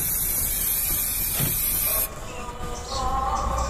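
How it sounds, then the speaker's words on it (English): A close, steady hiss of aerosol cleaning spray on a K&N air filter that dips briefly, then carries on spraying. "spray the front and back side thoroughly in the same way"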